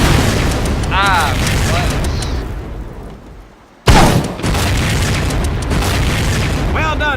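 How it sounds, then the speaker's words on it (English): Explosions in the World War II shooter Medal of Honor Pacific Assault, a heavy, roaring, sustained boom that fades out, then a sudden loud blast, with battle noise and speech over it. "Because I love explosions."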